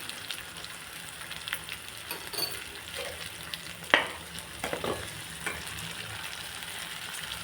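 Potato gravy for dum aloo sautés in a pan, a soft constant sizzle broken by a few scraping stirs and one sharp clink near the middle, close and quiet.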